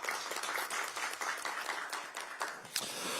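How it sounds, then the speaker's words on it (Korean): A crowd at a South Korean political speech claps steadily for a lawmaker, a dense patter of many hands applauding together at moderate volume for a few seconds. "박수 한번 보내주시기 바랍니다"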